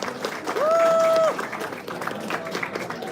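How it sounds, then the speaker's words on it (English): Applause from the audience at the 2024 World Championships of Shoe Shining, a broad, steady wash of clapping that holds through the clip, with a whistle-like tone briefly riding over it early on. "Big round of applause for Nishigama Yoshihiro, Albert Yukai, and G"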